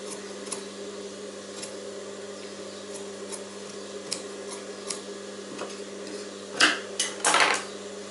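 Scissors snip through blouse fabric in short, sparse clicks over a steady low hum, closing with a few louder quick cuts near the end, close by with no talking.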